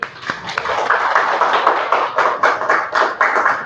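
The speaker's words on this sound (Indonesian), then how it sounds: "Oke, tepuk tangan dulu." A class of students claps together in a classroom, a short burst of irregular, close hand claps repeating in uneven pulses at fairly loud level.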